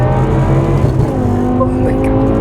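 BMW M6 with a V10 engine and F1-style exhaust, a loud, close engine note with strong harmonic whine that holds steady then shifts pitch as it revs.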